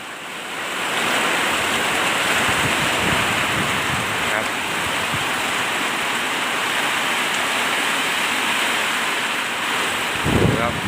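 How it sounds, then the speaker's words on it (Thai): Strong wind roars steadily and broadly for the whole stretch during a rainstorm, loud and continuous, with a surf-like rush and a brief gusty swell near the end. "ลมแรงมากครับ"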